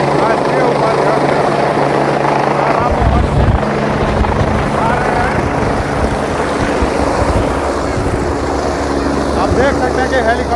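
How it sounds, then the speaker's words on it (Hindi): A helicopter comes in to land at an election campaign stop, its rotor and engine a loud, continuous roar that fills the scene while someone talks over it. "आप देख सकते हैं कि हेलीकॉप्टर उतर रही है उनकी"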